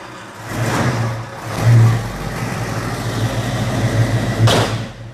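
Toyota Supra engine idling and revving with a deep, muffled rear exhaust note, swelling in two strong revs around the middle and near the end, loud and close with no talk.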